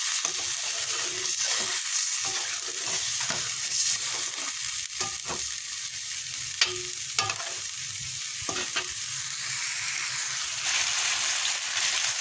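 Chicken and bottle gourd curry cooking in a pot, a low steady bubbling simmer with intermittent stirring clinks and scrapes, moderately quiet, no voices.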